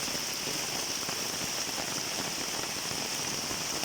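Heavy rain pouring steadily in Bangalore near a house gate, a dense, continuous hiss of drops hitting surfaces, even and moderately loud with no voices.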